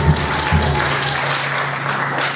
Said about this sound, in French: On acclame pour ces dieux-là.